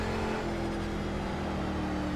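A GT3 race car engine in Project Cars, heard from inside the racing game as a steady, loud, buzzing drone with a sustained tone that shifts slightly in pitch, alone with no talking.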